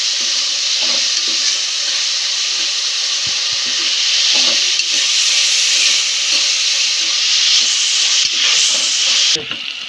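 Sliced onions frying with a pinch of salt in a pan for mutton curry, a steady, loud broadband sizzle with occasional stirring clatters throughout, no voices.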